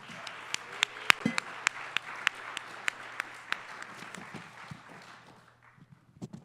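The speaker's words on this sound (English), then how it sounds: "a round of applause" An audience at a panel talk on avalanche communication and decision-making gives a round of applause: scattered, fairly sparse claps in a room, a few loud close ones standing out, tapering off after about five seconds.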